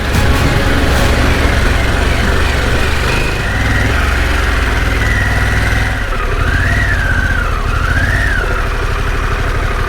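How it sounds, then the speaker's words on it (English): Motorcycle engine rumbling steadily up close while riding a trail, a continuous low drone with shifting tones and a rising-falling whine near the end. "Sure a lot easier to do a trail like this on this bike than the road glide."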